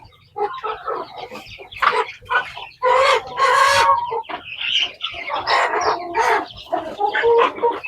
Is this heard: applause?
no